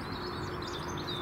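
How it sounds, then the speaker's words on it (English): Sparrows gather at garden bird feeders, giving faint, thin chirps and twitters over a soft, steady outdoor background hiss. "You can see a load of sparrows have come over now."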